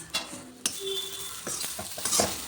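Cassava stir-fry with grated coconut is stirred in a hot pan, with a spoon scraping and clinking against the metal over a soft sizzle.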